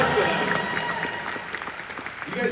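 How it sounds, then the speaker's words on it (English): An audience at the SAP Center hockey arena applauds, producing a broad wash of continuous clapping and crowd noise that rises slightly toward the end. A voice on the PA can be heard faintly under it. "Come on, big applause for that."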